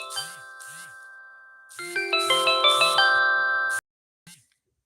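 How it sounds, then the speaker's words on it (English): A phone ringtone for an incoming call plays a bright, chiming melody that builds into layered tones, cuts off abruptly, and is followed by one faint short blip. No one speaks. "I just got a phone call"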